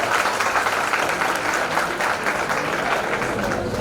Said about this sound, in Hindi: जोरदार तालियां बजाएं जज के लिए।